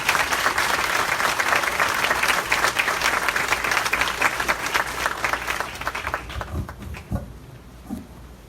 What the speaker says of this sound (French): Je vous prie de l'applaudir chaudement